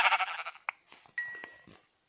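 A few short sheep bleats from a video game, thin and slightly synthetic, with a brief clink between them, quiet and alone.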